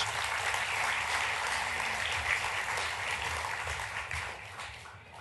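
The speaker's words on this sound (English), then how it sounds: "nice round of applause for the Navy Dallas service members" Sustained applause from a ceremony audience honoring Navy service members at a high school enlistee recognition event in Dallas, a steady dense wash of clapping that tapers slightly toward the end.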